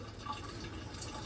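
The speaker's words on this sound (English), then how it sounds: "Let's get the water drained out and fix this leaking" Water draining from a Bobcat 7753 skid steer under repair for a leaking gasket, a steady close trickle and drip of liquid running continuously with no talk.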